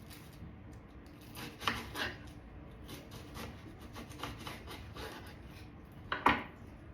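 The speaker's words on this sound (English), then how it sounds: "I'm just rough chopping them." A knife roughly chops half an onion on a cutting board, a steady series of close, crisp taps with a couple of louder knocks near the start and end.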